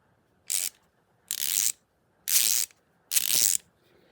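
A Duralast 90-tooth encapsulated ratchet clicks in four separate bursts of rapid, crisp pawl ticks, close and clear, with quiet gaps between the strokes.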